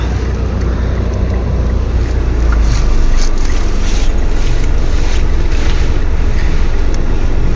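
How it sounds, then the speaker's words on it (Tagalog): Ship at the port of Dapitan bound for Dumaguete, with a steady low engine rumble mixed with wind buffeting and water wash, loud and continuous throughout. "Dito kami sasakay ng barko"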